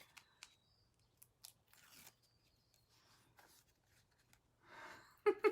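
Paper for a card is trimmed with scissors, the room mostly quiet with faint rustles before two or three sharp, close snips near the end.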